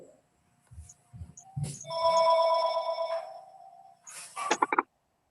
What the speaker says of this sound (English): Mrs. Dansinger, please mute your phone, please